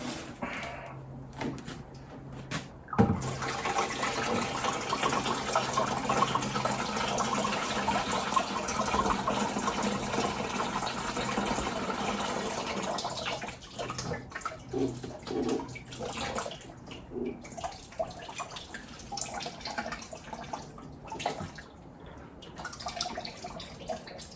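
Hot rinse water poured out of a Brown's gas generator: a sustained, close gush and splash of liquid runs for several seconds, thins into trickles, and is broken by knocks and clunks of handling, with no speech.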